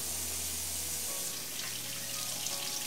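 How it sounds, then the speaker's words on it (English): Cold tap water runs steadily over raw chicken thighs in a kitchen sink, a continuous close hiss and splash with no pauses. "I wash them off in cold water, by the way, too."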